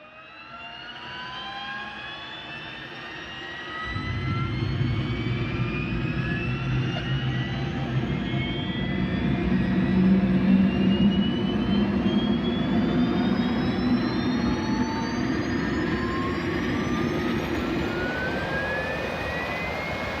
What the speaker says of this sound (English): the little jet engine in the tail is fired up